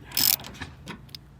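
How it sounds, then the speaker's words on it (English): A ratchet loosening a bolt on a car's driver's side headlight housing, one short burst of quick clicking followed by a couple of faint metallic ticks, close and without talk. "So I got the bolts loose on the driver's side headlight."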